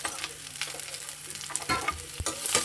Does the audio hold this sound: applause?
no